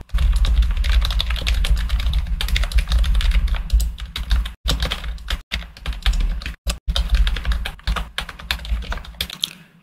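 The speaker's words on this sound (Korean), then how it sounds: "이제 키보드 칠 때 소리 좀 덜 나죠?" Typing on a replacement computer keyboard, a fast, continuous patter of close key clicks with a few short pauses near the end, no talking.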